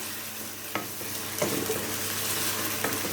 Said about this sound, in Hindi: और हम इसके साथ इसे भूनेंगे।